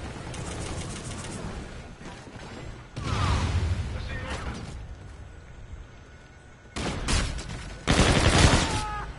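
Shotgun blasts in an online shooter game, heavy bursts around 3 s, 7 s and 8 s mixed with rapid gunfire and mechanical clatter, while a player talks over the action.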